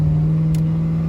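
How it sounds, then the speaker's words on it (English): A 1995 Chevrolet K1500 truck with an LS engine swap and new exhaust runs with a loud, steady low drone, heard close and constant. "Got the exhaust done. Sound much better"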